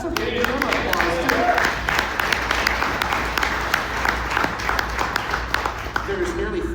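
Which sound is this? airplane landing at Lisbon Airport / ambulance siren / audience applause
audience applause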